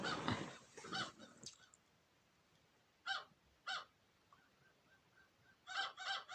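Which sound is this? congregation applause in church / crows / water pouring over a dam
crows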